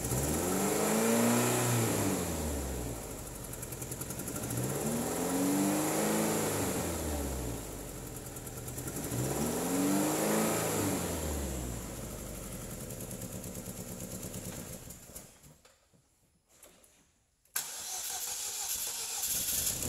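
A 2009 Chevrolet Cobalt engine, a car with 137,725 miles, cranks and runs in repeated swelling revs, close and loud, then briefly cuts out before catching again at a steady idle.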